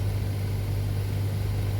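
HVAC blower fan in a Honda Element pushing air out steadily, a continuous broadband whoosh with a low steady hum underneath, close and even for the whole stretch, no talking.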